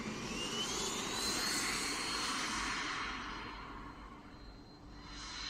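A model airplane on its maiden flight takes off with a continuous engine whine and roar that stays fairly faint and distant, and a thin tone slides upward as the craft climbs away.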